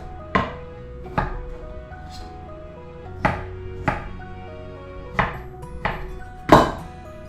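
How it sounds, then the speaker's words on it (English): A knife chops strawberries into small cubes on a cutting board, producing sharp, close, irregularly spaced knocks about every second, with one louder strike near the end and no talking. "now all we have to do is chop these guys up, and I'm just gonna basically cut them into little cubes"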